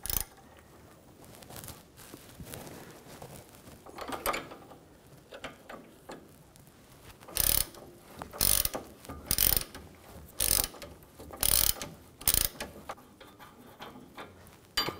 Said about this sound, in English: I'm going to use a 16 millimeter wrench. Just get that, loosen that up.